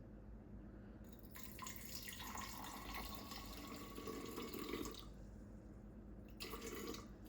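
Water poured in two bursts into a sourdough starter being fed, about 200 grams: a steady close-up splashing trickle lasting several seconds, then a shorter second pour.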